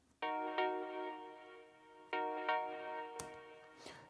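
Bright, uplifting synth chords for a remix of a song, programmed in Ableton, swell in two sustained stabs with dreamy harmonic shimmer, followed by a short percussive hit and a breathy noise sweep near the end.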